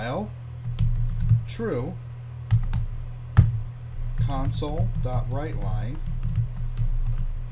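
Code being typed on a computer keyboard in Visual Studio, with a string of fast, light key clicks and several sharper taps, heard under someone talking steadily throughout.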